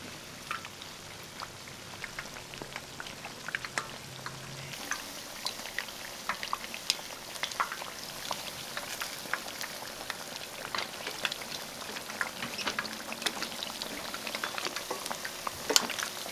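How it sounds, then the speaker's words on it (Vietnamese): Fish fries in oil over medium heat, with dense crackling and popping spatter, soft and steady throughout, with no voices. "Mình chiên với mức lửa trung bình nha."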